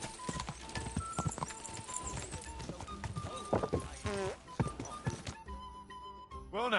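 Horses clip-clop in the medieval video game Kingdom Come: Deliverance, their hoof beats thudding in a loose rhythm alongside game effects and a brief neigh-like sound, with some talking.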